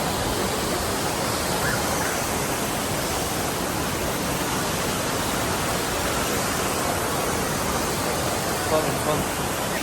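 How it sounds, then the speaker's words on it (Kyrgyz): Water spraying from a waterfall on a trip to Antalya, a steady broadband rushing hiss close by and unbroken for the whole stretch. "Su чачырайт экен бетиңе."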